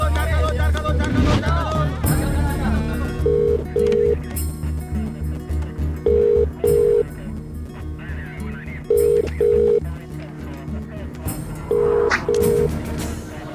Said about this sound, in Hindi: फोन करना है।